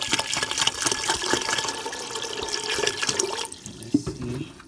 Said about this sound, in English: Okay, put some more water in there.